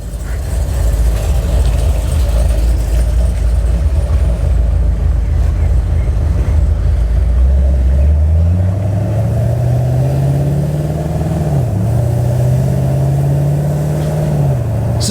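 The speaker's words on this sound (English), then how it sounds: "let's go ahead and get in the car, take it down the road real quick" A Pontiac G8 GT sedan drives down a road, heard from inside the cabin: a loud, steady road and engine rumble, then rising engine tones as the car accelerates through gears. A person speaks over the noise.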